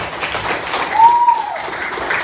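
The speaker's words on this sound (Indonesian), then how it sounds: "beri tepuk tangan buat kelompok satu" Children applaud a group in a classroom: steady clapping with a brief rise in the middle, fairly close and filling the room.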